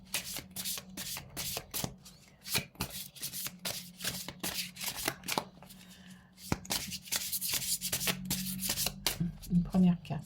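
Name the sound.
shuffling oracle cards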